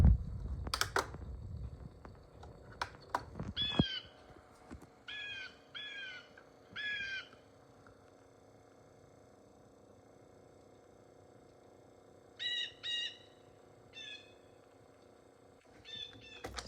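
Blue jay calls from a sound effects library arrive in harsh, raspy bursts. Groups of two to four calls come with gaps of silence between them, clear and fairly close, after a few clicks and a low thump at the start.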